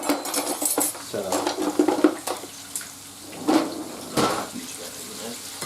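Scraping and stirring in a ceramic non-stick pan as shallots fry for crispy fried shallots, with intermittent clinks and scrapes, close and moderately loud.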